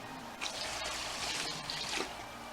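Cold water pours steadily into a turkey brining container, a close, continuous splashing trickle that holds an even level for a few seconds with no talk.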